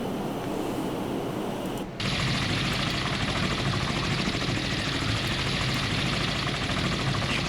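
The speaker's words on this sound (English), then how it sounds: "these guys are not gonna be able to shoot down that helicopter" Military helicopter in the naval combat game Sea Power, a steady loud rotor and engine roar that kicks in abruptly after a quieter stretch and holds continuously, with no talk.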